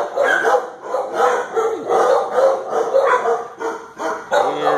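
A six-month-old puppy barks repeatedly at an animal shelter, the yaps loud and close and coming in quick bursts, with yips and whimpers mixed in and other dogs faintly in the background.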